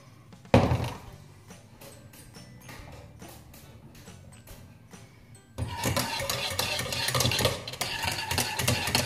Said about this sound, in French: Donc on n'oublie pas de bien mélanger en même temps